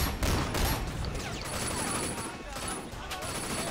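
Sustained gunfire from the Sleeping Dogs video game, dense and loud throughout, with bursts layered over a continuous wash of game noise and no pause.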